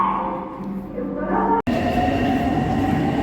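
A Cairo metro train rumbles through a station with a steady, loud roar of wheels and motors, a brief break, then continued rolling noise nearby.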